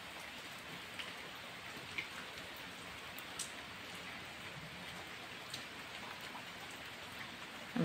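Heavy rain pouring down steadily in a rural village during the rainy season, a dense continuous hiss of drops with a few faint sharper patters, loud and unbroken, with no voices over it.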